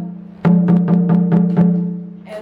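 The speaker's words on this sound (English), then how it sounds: "So the second one you see here is called the sangban." The sangban, the mid-tone dunun drum, is struck six times in a quick, uneven rhythm over a steady low hum, then a softer tap closes the sequence.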